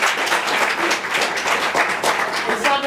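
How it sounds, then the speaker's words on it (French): Audience applause for a high school at an academic excellence competition final, a dense, steady wash of many hands clapping together for the full stretch, with faint voices mixed in. "applaudissez pour le lycée Cassé."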